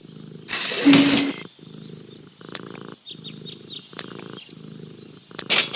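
A cat purrs in the point-and-click game Deponia, a steady pulsing rumble in short repeated bursts, broken by a brief louder hiss near the start and faint bright chirps.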